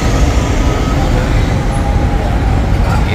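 Congested traffic near the Bin Dawood hotel in Sisha, on the eve of the Day of Arafah, makes a dense, steady roadway rumble of engines, close and loud throughout.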